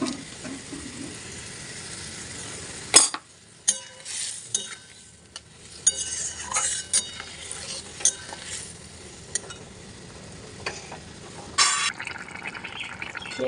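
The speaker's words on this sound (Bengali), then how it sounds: "জলটা ফুটে গেছে, ভেজে রাখা চিংড়িগুলো দিয়ে দেবো।" Fried shrimp tipped into boiling water with poppy seed paste for a Bengali chingri posto, a sharp splash followed by steady stirring and clattering spoon scrapes, close and clear with no voices.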